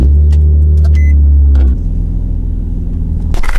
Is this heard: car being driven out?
yes